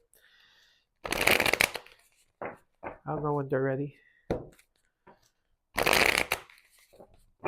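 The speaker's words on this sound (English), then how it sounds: "I have to keep shuffling, sorry." Tarot cards are riffled and shuffled in two loud bursts, with a person speaking briefly in between.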